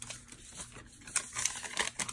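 A Kohl's paper receipt cut with scissors, giving short crisp snips and papery crinkles up close, fairly quiet, with no talk.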